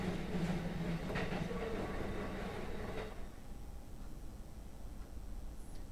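A train rolls along the tracks in the Japanese horror game Kaii Shoukougun 3, set around the Kisaragi Station urban legend. There is a steady rumbling clatter with faint clicks for about three seconds, then it drops to a quieter, duller hum.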